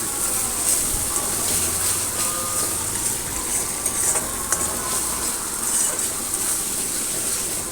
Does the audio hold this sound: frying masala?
yes